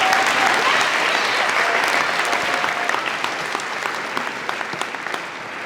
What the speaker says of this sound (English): We give a round of applause to him.